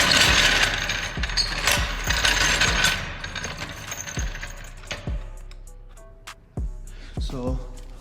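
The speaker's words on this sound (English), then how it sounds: "Jack it up." A car jack raises an 8th-gen Honda Civic Si, giving a series of close, uneven ratcheting clicks and metallic clunks over a rough, noisy background that thins out toward the end.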